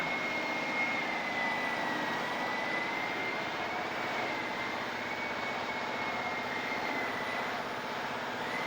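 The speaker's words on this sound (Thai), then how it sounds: "ตอนนี้กำลังขัดสีครับ" A steady, loud mechanical whir with a high whine runs unbroken throughout from a rotary machine polishing car paint close by.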